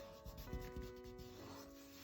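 Pencil shading is rubbed on paper beneath the chin of a Beethoven portrait drawing, giving a very faint, close, soft scrubbing made of a few quick back-and-forth strokes.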